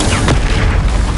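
Incendio fire spell cast in Hogwarts Legacy, a single loud booming burst that fills the whole short moment.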